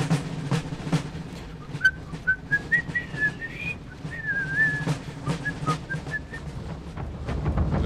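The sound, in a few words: whistled British Grenadiers tune in video game Napoleon: Total War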